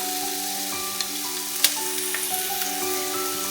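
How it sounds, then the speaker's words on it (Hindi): One large chopped onion sautés in oil in a pan for chicken spring rolls, making a continuous close sizzle with a few light stirring clicks over a steady background hum. "प्याज को हम थोड़ा सा सोते कर लेंगे पहले।"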